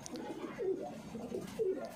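A fantail pigeon coos softly several times in a low, rolling rhythm, close by and fairly quiet.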